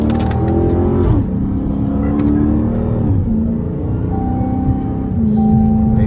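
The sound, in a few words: Dodge Charger Hellcat car revving and sliding through turns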